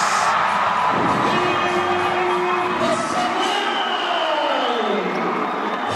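A basketball crowd roars and whoops inside an arena during a Philippine MPBL game, a loud sustained wash of cheering with a whistle-like tone sweeping through it.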